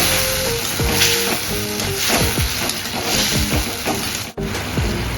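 Pineapple chutney sizzles steadily in a pan while a spoon stirs and scrapes through it in repeated strokes, close and fairly loud, with a brief dip near the end.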